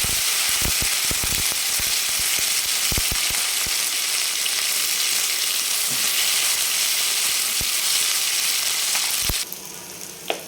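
Ginger, garlic, coriander and green chili paste hitting hot oil for a mutton rassa, a loud continuous sizzle with sharp crackles and pops near the start, then a sudden drop into quieter frying with a final spit.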